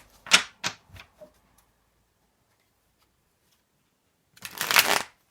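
Tarot cards shuffled close up: a couple of quick riffling bursts and a few soft taps, then a pause and one longer riffle, with no voice over it.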